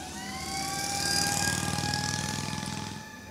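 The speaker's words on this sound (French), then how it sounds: "une Jeep qui arrive, toute sirène, avec notre ami Fabien Blandel." Vintage military Jeep approaching during a July 14 parade with its siren wailing in a rising and falling tone over a rumbling engine, swelling louder toward the middle as it draws near, with no talk.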